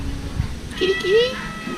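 A cat, outdoors in Sanur, Bali, gives a short rising meow close by, following some quiet speech and background noise.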